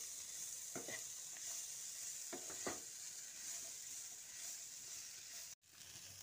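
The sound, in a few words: stir-frying shredded cabbage and vegetables for spring rolls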